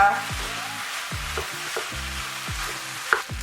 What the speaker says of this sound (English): When everything is well mixed together, allow it to fry for 1 to 2 minutes